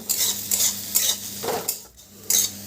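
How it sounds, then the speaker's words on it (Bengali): Chopped onion, green chilli and grated ginger frying in a pan, with a spoon scraping through them in several loud, separate strokes over a soft background sizzle. "সব কিছুকে এবার ভালো করে একটু ভেজে নিচ্ছি"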